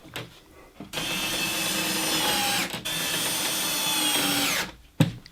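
A power drill runs in two long, loud bursts, driving screws to fix plasterboard boards into a paint and flammables cabinet, with a brief pause between runs and a short knock at the end.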